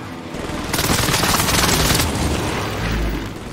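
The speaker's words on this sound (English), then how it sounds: "Enemy precision airstrike." Precision airstrike explosions in Call of Duty Warzone, heard as a loud, dense barrage of booms and rapid blasts that rolls on continuously, easing into a deep low rumble near the end.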